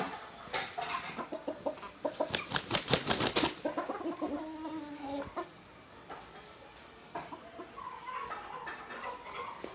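Indian game roosters in a pen flap their wings in a burst of rapid beats, then cluck and call in short, close phrases, fading to quieter clucks.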